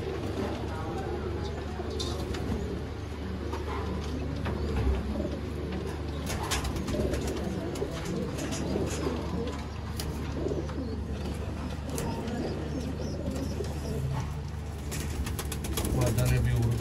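Sialkoti breeder pigeons cooing in a loft, a soft continuous murmur of low coos layered over steady background noise, with occasional chirps and faint wing flutters.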